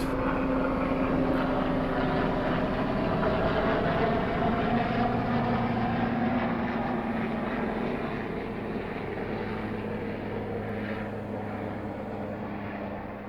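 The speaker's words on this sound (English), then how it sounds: "Fighter jet" An aircraft roars steadily overhead, its engine pitch slowly shifting as it passes, then gradually fading.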